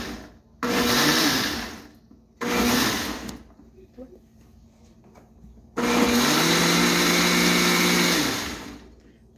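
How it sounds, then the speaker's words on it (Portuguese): A blender whirs in three bursts, two short and then a longer steady run, as it mixes creamy cornmeal cake batter in a home kitchen. A voice speaks quietly in the gaps. "Agora não precisa bater muito, tá? É só dar uma batidinha para mexer"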